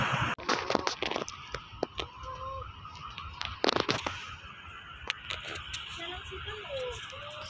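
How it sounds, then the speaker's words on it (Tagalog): Large bird honking a few times amid scattered sharp clatters and a constant outdoor background hiss, with some faint voices. "So ayan din ang ibon na malaki guys."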